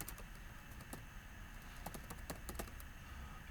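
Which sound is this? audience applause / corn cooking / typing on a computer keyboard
typing on a computer keyboard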